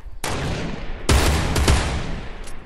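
A hunting rifle in Fortnite fires several sharp, loud in-game shots in quick succession, each with a brief echoing tail.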